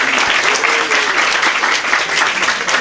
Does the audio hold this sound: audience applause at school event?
yes